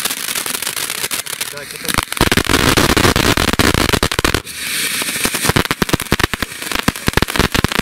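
Fireworks battery going off outdoors, rapid loud cracking bursts and pops in dense volleys, pausing briefly before another barrage, with a voice speaking briefly at the start.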